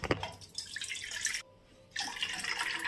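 Soaking water drained off kodo millet and fenugreek seeds in a home kitchen: a close, steady splashing trickle with a brief quiet gap partway through, then the pouring resumes.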